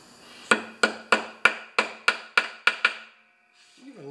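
Nine sharp metallic hammer taps, close and evenly spaced, as a small hammer drives a part into a new lawn mower turned upside down; a brief voice-like tone follows at the end.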